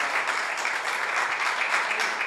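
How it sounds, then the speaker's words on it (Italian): Applause for a group of students at a school event, dense and steady clapping from a sizable crowd that fills the whole moment at an even, loud level with no voices over it. "possiamo anche fare un applauso a questa bella rappresentanza."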